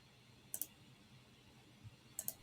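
Two quick pairs of computer mouse clicks, near and crisp, set about a second and a half apart in a quiet room while working in Power Apps, with no talking.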